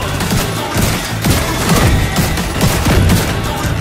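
Video game gunfire, a dense continuous fusillade of overlapping shots and bursts, loud and close throughout, with no speech.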